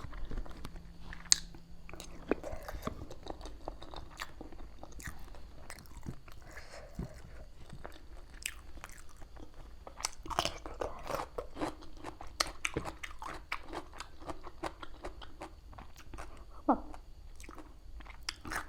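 Close-up eating of pickled mantis shrimp seafood, with repeated crunchy bites and wet chewing that come in irregular clusters, steady and near throughout with no talk.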